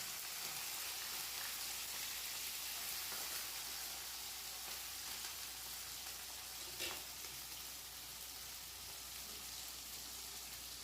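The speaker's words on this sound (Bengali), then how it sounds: "চিংড়ি মাছগুলো ভেজে নেবো" Prawns fry in mustard oil in a pan, giving a quiet, continuous, hissy sizzle with faint crackles throughout.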